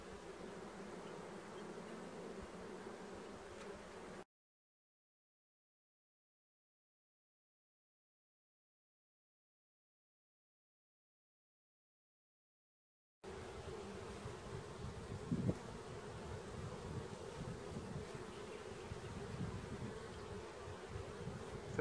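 Honey bees hum in a steady, dense buzz from an open hive during a brood inspection, close and continuous, broken by a long stretch of silence midway before the droning resumes.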